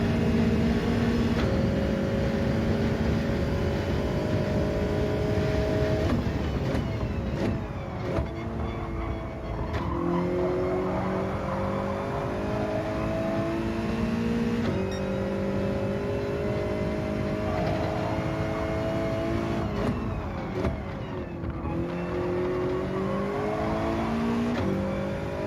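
A Toyota 86 racing in Gran Turismo 7 makes a continuous, loud engine drone throughout, its pitch climbing and dropping sharply at gear shifts and rising again under acceleration, with no talking.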